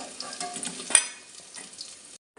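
Potatoes fry in oil, a soft close sizzle with light stirring clinks and one sharp metallic tap, fading out before a brief silence at the end.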